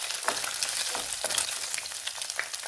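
Garlic frying in a pan with cooked beef loaf, a dense, constant bright sizzle broken by repeated stirring scrapes, close and steady with no talking.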